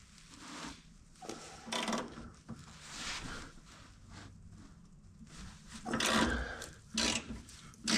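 A ratchet works at bolts on the front suspension of a VW Vanagon, giving close, repeated clicking and scraping bursts with uneven pauses, louder toward the end.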